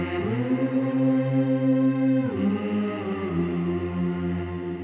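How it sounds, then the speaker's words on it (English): Stacked voices sing sustained choral chords, a smooth layered harmony that shifts pitch midway and continues without any spoken words. "I also did like a nice choir thing."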